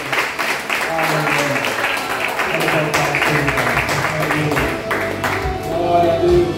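Congregation applause during a church celebration service blends with music and voices, a steady clapping texture that runs under singing and talk throughout.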